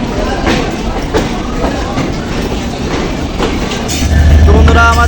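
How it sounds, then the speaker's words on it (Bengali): Rolling stock of the Madhumati Express clatters along the rails in a loud, steady rumble with rhythmic wheel clicks, and a low engine hum rises toward the end as the locomotive is detached and moved. "এখন লোকোমোটিভ খুলে পিছন থেকে সামনে নিয়ে আসা হবে।"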